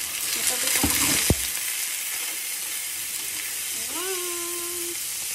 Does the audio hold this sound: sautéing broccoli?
yes